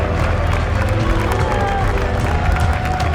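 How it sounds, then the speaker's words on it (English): A packed stadium crowd roars steadily at the opening kickoff of a Canadian Premier League match, a dense, loud wall of cheering and clapping that holds without a break. "Crowd roaring with approval at the opening kickoff"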